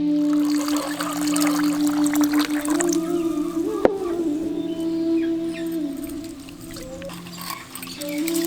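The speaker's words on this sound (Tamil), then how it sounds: "இப்ப நம்ம எடுத்து வச்சிருந்த அரிசியை தண்ணி ஊத்தி நல்லா ஊற வச்சிடலாம்." Water is poured over rice in a vessel to soak it, making a steady trickling pour with shifting watery tones as the level rises, close and continuous, set against faint outdoor village sounds.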